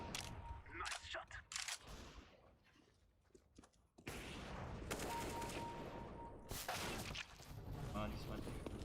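Bursts of video game gunfire from PUBG Mobile crackle in rapid volleys between quieter gaps, loud and close, mixed with game sounds and a voice talking over it.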